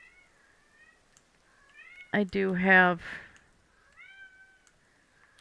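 A cat meows several times as a game sound effect in Vintage Story, a short tonal cry near the start and again at the end, with a person talking in the middle, partly over it.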